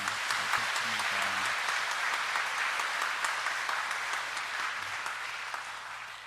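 Congregation applauding in a Catholic church to welcome new catechumens, a steady, moderately distant wash of clapping that slowly fades over six seconds.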